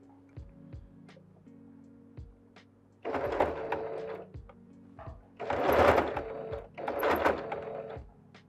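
An electric sewing machine stitches a batik face mask to its lining. A soft mechanical hum with faint clicks comes first, then three louder bursts of rapid whirring stitching.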